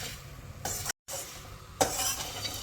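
Puffed rice (mamra) roasting in a pan on low heat with peanuts and curry leaves gets stirred, giving a dry, rustling scrape in a few distinct sweeps separated by brief pauses, with a soft sizzle underneath.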